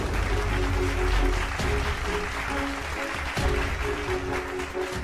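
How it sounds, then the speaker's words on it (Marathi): Continuous applause from a crowd at a baby's naming ceremony, a steady dense wash of clapping that carries loud through the whole stretch without letting up. "म्हणीसरा टाळ्यांचा आवाज आहे ना?"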